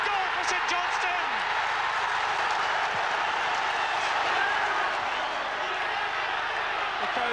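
A large football crowd of St Johnstone fans roars and cheers continuously in a stadium, a broad sustained wash of noise with a commentator talking over it.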